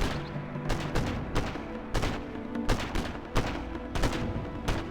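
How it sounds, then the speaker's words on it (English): Red Guard infantry rifles in Command & Conquer Generals fire in quick, steady bursts, sharp cracks repeating roughly twice a second over a constant bed of battle noise, loud and close. "So you can see that that Red Guard is firing fairly quickly."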